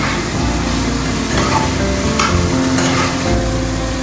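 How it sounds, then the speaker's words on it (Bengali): Chicken pieces frying in a pan for a chicken cheese omelette, a loud dense sizzle and hiss running steadily throughout, close to the microphone, with a few brief scrapes. "ভাজতে ভাজতে চিকেনটা মোটামুটি সেদ্ধ হয়ে যাবে"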